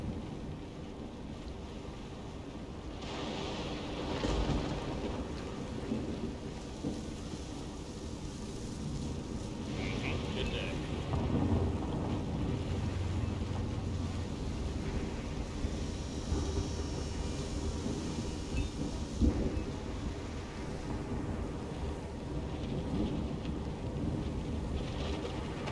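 A rolling thunderstorm in Hitman 2, steady rain hiss with low rumbles of thunder swelling and fading over a long stretch, some distant, plus brief faint noises and sparse murmured talk underneath.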